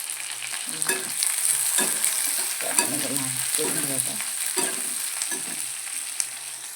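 A pan mixture with crushed peanuts and green chillies being sautéed for a quick breakfast: a spatula scrapes and stirs in repeated strokes over a soft, continuous sizzle, with no talking.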